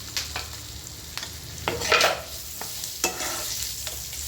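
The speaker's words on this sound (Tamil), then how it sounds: "நம்ம கட் பண்ணி வச்சுருக்கிற வாழைக்காய் ஸ்லைஸை போட்டுருவோம்" Raw banana slices frying in masala on low heat, stirred with repeated spoon scrapes and knocks against the pan over a steady close sizzle, with a louder burst of frying midway; no speech.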